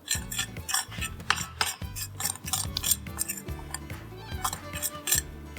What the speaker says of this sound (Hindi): mix mix mix mix everything